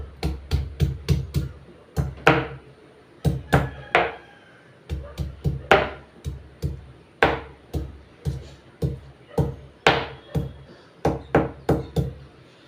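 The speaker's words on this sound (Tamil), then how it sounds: "ஒரு இஞ்சி சின்ன துண்டு எடுத்துக்கலாம் பார்த்துக்கோங்க சின்ன துண்டு தான் இதை நசிக்கலாம்" A small piece of ginger being crushed for tea, a long run of loud, close wooden knocks and thuds struck in quick irregular bursts with brief pauses between them.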